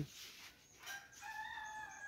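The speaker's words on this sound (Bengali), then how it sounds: "এদিকে দেখুন মুরগি, ছোট ছোট মুরগির বাচ্চারা।" Chickens and small chicks in a rural village yard near a pond give short, faint calls, with a thin high cheeping toward the end over quiet outdoor background.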